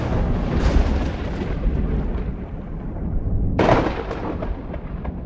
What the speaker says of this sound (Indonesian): Ada guntur juga.